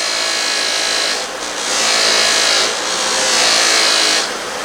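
Buffing a metal tractor control knob, a loud continuous whirring rub that swells and eases in long waves as pressure changes, close and steady with no talk.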